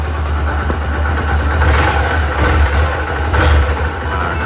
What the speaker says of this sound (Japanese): ちょっとエンジンかけてみますか